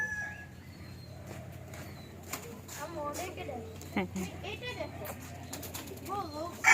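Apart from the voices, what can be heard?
silkie chickens at an eco resort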